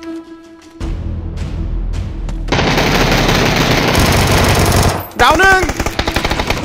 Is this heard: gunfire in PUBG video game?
yes